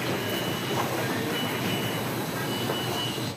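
A Kolkata Blue Line metro train arrives at the platform with a loud, continuous rolling rumble and rail hiss that holds steady for a few seconds before cutting off abruptly.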